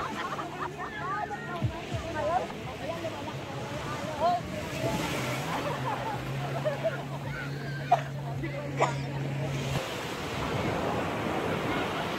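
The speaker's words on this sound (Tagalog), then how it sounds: "Natatakot sila kasi malakas yung alon." Strong waves surge and slap around a boat at sea, a continuous washing roar with gusts of wind, while people murmur and talk in the background.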